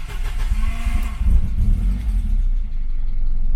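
A Cossie's engine cranks and catches, the starter churn giving way to a close rumbling idle that settles and fades slightly, with no talk.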